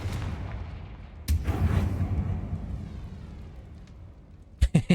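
A Confringo blasting spell explodes in Hogwarts Legacy with a sharp boom and a rumbling decay, then a few quick crackling impacts close by near the end.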